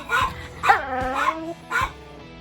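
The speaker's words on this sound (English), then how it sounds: "Missy, let's make Archie bark." Archie the dog gives a few short, high barks and yips with a whiny edge, close by, about four quick sounds in a row.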